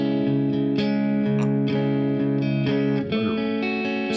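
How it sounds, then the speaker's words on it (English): A progressive rock track plays as a dense, sustained wall of distorted electric guitar tones soaked in effects, with steady loud chords that shift and bend briefly near the end. "Set of phenomenal guitar tones."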